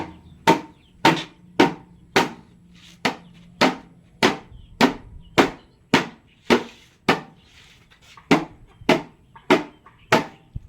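Repeated sharp hammer strikes splitting bamboo, about eighteen evenly spaced blows, loud and close, with a brief pause before the final run of hits.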